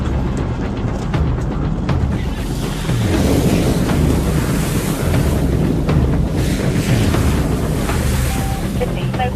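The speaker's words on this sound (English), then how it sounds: "We've just gone through lots of standing water" A police car splashes through standing water on a road during a pursuit, with a loud, continuous rush of spray and wind buffeting that lasts throughout.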